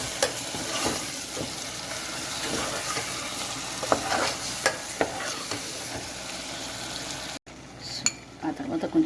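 Chicken leg pieces and tomato being stirred in a hot pan, a steady sizzle with scraping spoon strokes and occasional clinks of utensil on metal, close and continuous.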